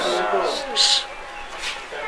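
Cattle moo close by at a livestock handover, a couple of long drawn-out bellows under someone talking over them.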